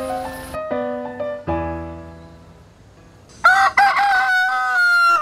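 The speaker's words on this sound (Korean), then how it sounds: "박물관 수탉이 목청을 한껏 키워 아침을 깨웁니다." A rooster crows loudly and close by, long harmonic calls, followed by a brighter, higher burst of crowing near the end.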